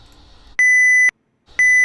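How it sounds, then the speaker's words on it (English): A smoke detector gives two sharp, piercing electronic beeps, each about half a second long with a short silent gap between, loud and close. "We got smoke detector sound"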